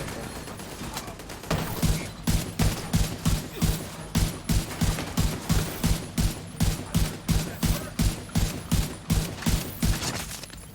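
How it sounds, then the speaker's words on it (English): Blind gunfire in The Division 2 video game, a long run of rapid, evenly spaced automatic shots firing in a steady rhythm for several seconds, loud and close. "that lot of blind fire is crazy"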